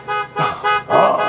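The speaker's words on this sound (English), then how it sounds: "can you please stop honking your horn?" A car horn honks in four sustained blasts with short gaps, loud and close, with no talk over it.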